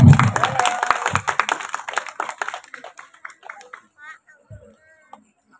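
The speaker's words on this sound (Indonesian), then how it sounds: "kasih tepuk tangan ya" An audience at a school poetry reading breaks into a burst of clapping that starts loud and thins out into scattered claps before falling silent, with some talk mixed in.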